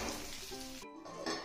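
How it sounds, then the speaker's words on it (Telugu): Dried red chillies, a pinch of asafoetida and curry leaves sizzle in hot oil for a South Indian sambar tempering, a steady close frying crackle with a brief clink partway through. "ఇప్పుడు తాలింపు దోరగా వేగిన తర్వాత స్టవ్ కట్టేసుకుందాం"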